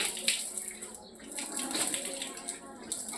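Water runs and splashes from a tap or small vessel during ritual ablution (wudu) washing, trickling steadily at moderate volume with brief splashy bursts while a voice speaks quietly in the background.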